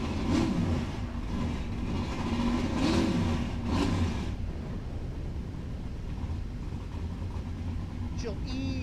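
A nitrous-assisted Fulton big block in a 1968 street drag car rumbles loudly at Cordova Dragway, with engine noise swelling and easing under a talking voice.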